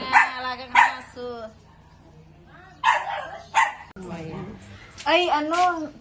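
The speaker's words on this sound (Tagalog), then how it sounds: "ingay na namin mga alagang aso" A few loud barks from pet dogs come at a new house during a blessing gathering, set between stretches of close conversation.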